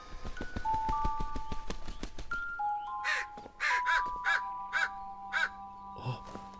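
A crow caws several times in a short series, loud and harsh, over a backdrop of ringing chime-like tones, in a cartoon.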